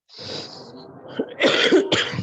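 Several coughs from an adult man during a spoken lecture, starting with a hoarse, drawn-out cough and followed by two sharper, louder bursts close to the microphone.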